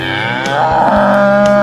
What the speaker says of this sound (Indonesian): nah ini pasti suara sapi, bukan suara zebra ya